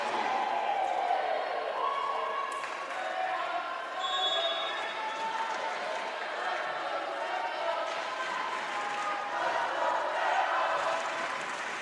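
Crowd at a 2022 NCAA Tournament women's volleyball match between Tampa and Barry roars steadily for the Spartans, a dense, sustained wall of cheering and shouting with a commentator talking over it throughout.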